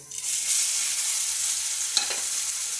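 Spices tossed together into hot oil for a Bengali fish-head dal ghonto, sizzling in a steady broad hiss with one sharp clatter of stirring near the end; no voices.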